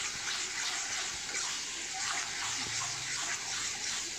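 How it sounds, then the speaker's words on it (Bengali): Water mixed with ground spice paste is poured into a cooking pan for a Bengali kochu shak dish with hilsa fish head, giving a steady splashing gush close by, without talking. "মশলা বাটার জলটাকে অ্যাড করে দিচ্ছি"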